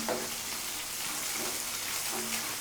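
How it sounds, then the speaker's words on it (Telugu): Thinly chopped onion pieces fry in a pan for mamidikaya pappu, a dense hissing sizzle with faint crackles, steady and close throughout. "ఈ ఉల్లిపాయ ముక్కలు కొంచెం ఫ్రై అవ్వాలి మనకి."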